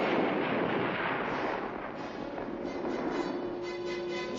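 An air defense missile launching at Fort Bliss in 1972: a loud, continuous broadband roar of rocket exhaust that holds steady for several seconds with no talk over it.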